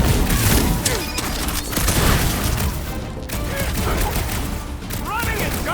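Gunfire from a Guardians of the Galaxy video game: dense, continuous bursts of shots and booms mixed with game music and effects, loud and sustained throughout.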